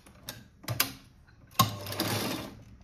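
A sewing machine stitching a puff sleeve, with a few short clicks and mechanical ticks followed by a longer whirring run of stitches, close and fairly quiet.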